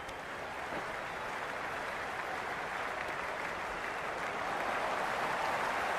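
A stadium crowd in the Cricket 26 video game, a steady dense roar of cheering and clapping that stays loud throughout and swells slightly toward the end.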